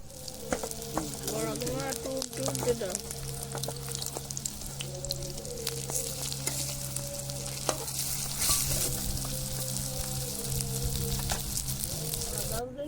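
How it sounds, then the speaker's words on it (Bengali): Water lily flower fritters in gram flour batter fry in hot oil in a wok with a steady crackling sizzle and occasional sharp pops, while a voice talks faintly nearby. "আমি কড়াই তেল দিচ্ছি, বড়া করবো।"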